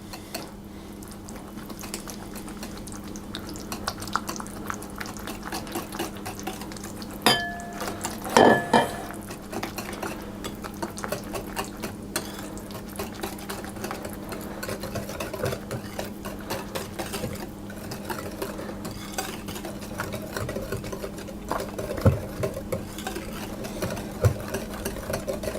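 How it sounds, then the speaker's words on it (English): A whisk beats sugar into soured cream cake batter for a hazelnut layer cake, making a fast, continuous tapping clatter against the bowl at close range, with a couple of louder knocks and no speech. "is to add the sugar in as well. And we'll whisk again."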